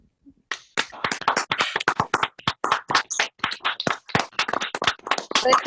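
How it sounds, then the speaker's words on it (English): Members of an online music class, unmuted on a video call, clap together in a brisk, uneven patter of close, sharp handclaps that continues for several seconds. "Give a big round of applause."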